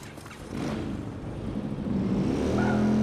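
A motor vehicle engine in the video game Watch Dogs 2 drones and builds in pitch as it accelerates, loud and steady throughout with no talking.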